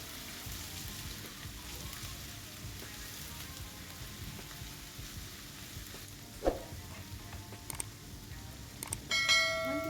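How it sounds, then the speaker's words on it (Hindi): Ginger and garlic paste frying in a pan for chicken karahi, a low steady sizzle close by with occasional metallic clinks and scrapes near the end, no talk. "1 टीस्पून जिंजर पेस्ट ऐड कर देंगे और 1 टीस्पून गार्लिक पेस्ट ऐड कर देंगे और इसको 1 मिनट के लिए हल्का सा इसमें फ्राई कर लेंगे"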